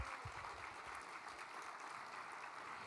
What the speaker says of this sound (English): So let's give a huge round of applause to our fire personnel.